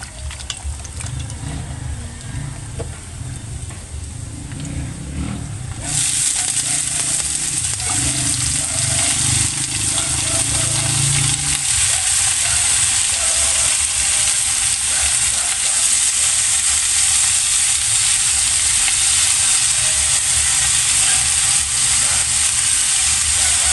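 Sliced bitter gourd dropped into a pan of cooked onion and garlic, where a loud, steady frying sizzle rises sharply and keeps hissing close up without talk.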